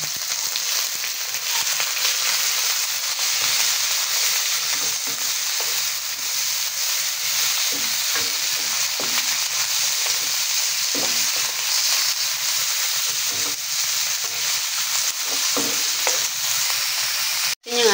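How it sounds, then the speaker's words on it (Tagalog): Shrimp sizzles steadily in a hot pan with ginger, a loud continuous frying hiss broken by scraping stirs, close and alone without talk. "Igisa lang natin hanggang sa lumabas yung kanilang aroma. Lalagay na natin yung hipon."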